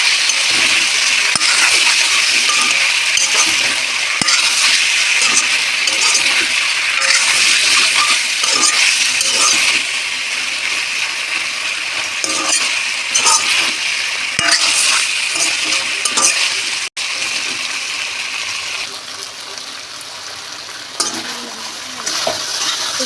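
Pumpkin stalks and potato are stirred with cumin-coriander paste in a pan for a Bengali fish curry, giving a loud, close, continuous sizzle with repeated scraping of the spatula against the metal.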